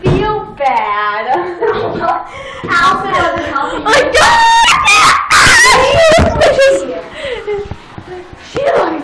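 A puppy whines and yelps close by in repeated high, wavering cries and sharp yips, mixed with people talking and laughing.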